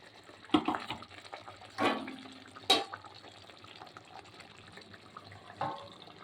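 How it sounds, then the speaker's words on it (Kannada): Water rinsed from a mixer jar poured into a pan of chicken gravy during home cooking, heard as a few short splashy pours and gurgles over a low steady room background, with no talk. "ಸ್ವಲ್ಪ ತೊಳೆದ ನೀರು ಹಾಕೋಣ, ಮಿಕ್ಸಿ ತೊಳೆದಿದ್ದ ನೀರು"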